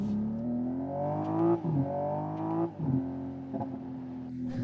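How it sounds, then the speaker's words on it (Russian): A Hyundai Ioniq 6 N electric car plays a simulated engine note that rises in pitch through gear-like steps, with brief drops and crackles between shifts, a steady, fairly loud synthetic drone. "когда вы отпускаете педаль газа и слышите эти прострелы плоп-плоп-плоп из выхлопной трубы"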